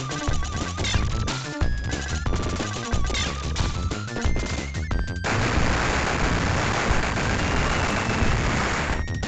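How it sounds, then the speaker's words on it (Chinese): Enemy gunfire in the Sega Mega Drive game Contra: Hard Corps during a final boss battle, rapid 16-bit shots and explosions over chiptune music at first, then turning into a dense, continuous barrage of crackling blasts. "敌人只会四处飞行并开枪射击"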